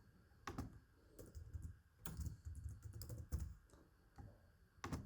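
Typing on a computer keyboard, clusters of close, crisp key clicks in irregular bursts separated by short pauses, no speech.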